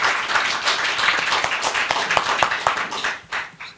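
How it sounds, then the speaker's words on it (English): An audience at a seminar in the British Parliament claps briefly, a dense patter of hand claps that swells and then thins out over a few seconds. "So if you can give a round of applause"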